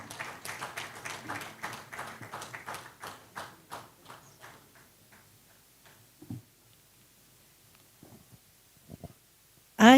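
Audience applause after a speech at the Uganda National Agricultural Extension week, a dense burst of clapping that thins out and fades to a few scattered claps.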